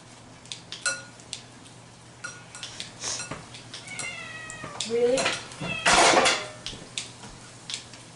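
A cat meows repeatedly in a kitchen where garlic, oregano and chicken are being prepared, its rising, drawn-out calls close and fairly loud, with faint clinks of dishes and a person talking in between.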